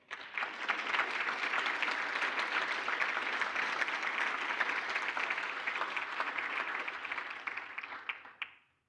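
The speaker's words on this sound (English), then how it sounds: "Let's give them a special round of applause." An audience at a South African Mathematics Foundation awards function breaks into a sustained round of applause, dense clapping filling the room for about eight seconds before fading out.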